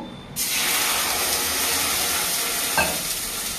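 Water hits a hot kadai for a brinjal (begun) chorchori, bursting into a loud, steady hiss of sizzling steam that holds for several seconds with a faint extra splash near the end.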